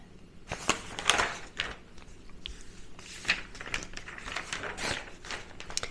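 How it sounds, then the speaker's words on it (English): Newspaper pages are turned and handled up close, with crisp rustles and crinkles arriving in bursts, soft and unhurried, with no talking. "because I know there's a lot of people that prefer page turning without talking"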